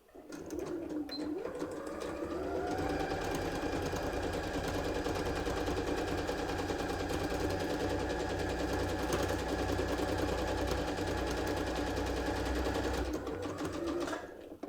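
A sewing machine runs steadily on a zigzag stitch along a fabric edge for a mermaid purse, a loud continuous mechanical whir that starts, holds for about thirteen seconds and stops.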